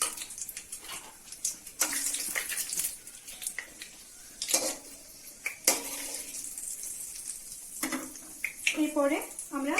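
Bay leaves and dried chillies sizzle in hot oil and sugar in a pan while making chicken kosha, with bursts of crackling sizzle, stirring and pan scrapes, and a voice talking intermittently.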